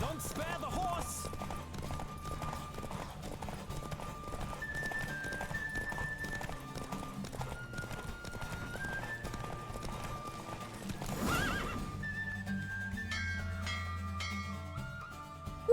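Rhythmic hoofbeats of a galloping horse in The Witcher 3: Wild Hunt horse race, over steady game music, with a brief burst of noise and a whinny partway through.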